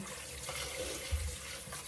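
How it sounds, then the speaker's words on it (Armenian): Tap water runs steadily and quietly into a sink while something is rinsed under it, a soft even hiss with no voices. "մի հատ լվանում եմ, իրավունի փոշին, որ մաքրը գվի"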